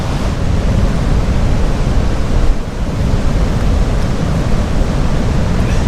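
Ocean waves crash and surge onto a beach in south-west Western Australia while wind buffets the microphone, a loud, continuous roar with a brief dip in the middle.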